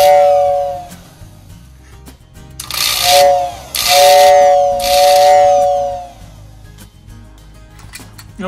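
The whistle unit of a prewar Lionel 2224W toy train tender blows three loud, breathy steam-style whistle blasts in succession, each a couple of seconds long with hissing air, close up and alone, followed by faint mechanical hum.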